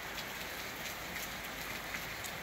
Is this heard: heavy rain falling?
yes